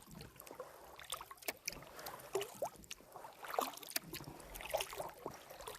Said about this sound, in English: Just a leisurely paddle here. I am fighting the currents.